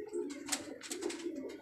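Many pigeons kept by a rooftop fancier coo together in low, rolling, overlapping calls, fairly quiet and continuous throughout.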